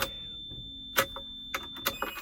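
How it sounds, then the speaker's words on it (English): Lamborghini Murcielago chiming after its key goes into the ignition, several short electronic beeps spaced irregularly, alone and with no talk. "You gotta put the key in and it's gonna basically beep at you and say, no, you can't start the car"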